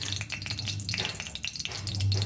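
Bay leaves and whole masalas frying in about a tablespoon of hot coconut oil for a Goan vegetable stew, a steady close sizzle with crackling pops throughout and a low hum underneath.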